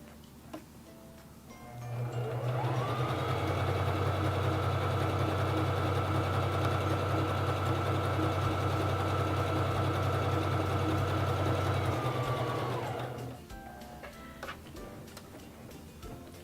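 A Singer Fashion Mate 3333 sewing machine stitches a wide zigzag, a loud, steady mechanical hum and rapid ticking that starts up, runs evenly for about ten seconds and then stops, close by and without speech.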